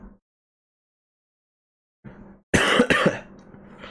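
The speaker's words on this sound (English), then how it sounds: "You got an exclusive cough." A quiet stir, then a sharp, close double cough after a long silence, followed by a brief rumble.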